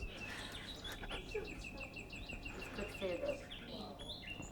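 A phone ringtone plays recorded bird song, with repeated bright chirps and tweets at a low level in a room, and faint voices murmur in the background.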